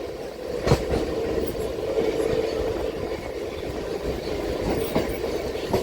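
A MEMU local train runs between Kazipet and Secunderabad, producing a continuous, moderately loud rumble and rail noise, with a couple of sharp clacks from the wheels over the joints.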